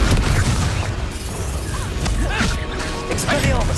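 In the Hogwarts Legacy video game, a Confringo explosion spell erupts as a loud, dense burst of booming, crashing impact noise that fills the whole stretch, with a brief spoken incantation mixed into the din.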